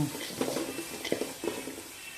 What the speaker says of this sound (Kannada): ಈಗ ಅರಿಶಿನ ಪುಡಿ, ಟೊಮೆಟೊ ಎಲ್ಲ ಪೂರ್ತಿಯಾಗಿ ಮೆತ್ತಗಾಗೋ ತನಕ ಇದನ್ನು ಫ್ರೈ ಮಾಡ್ಕೋಬೇಕು.